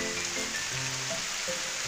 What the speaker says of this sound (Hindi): जोर से हो रही है बारिश।